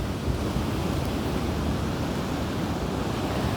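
Sea waves washing onto the shore at Zenata beach, a loud, continuous rushing roar with wind buffeting the microphone and no voices.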